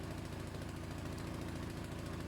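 A repaired petrol lawn mower engine idles steadily close by, a continuous even rhythmic chugging with no pauses.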